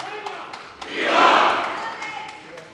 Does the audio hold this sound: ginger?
no